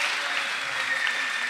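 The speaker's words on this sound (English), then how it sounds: "the crowd is certainly happy to see their boy there" Crowd at a Day of Destruction fight event applauding and cheering as a fighter makes his entrance, a dense steady wash of clapping throughout.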